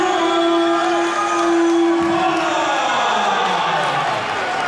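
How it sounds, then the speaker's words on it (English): A boxing crowd at a live fight roars in a loud, sustained wash of cheering and shouting, with a steady tone and a falling whoop riding over the continuous noise. "Drew Coller's certainly got the crowd going here."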